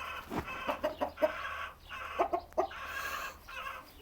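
Hens cluck in short, irregular bursts close by, with a rooster's sharper calls mixed in against a steady farmyard hum.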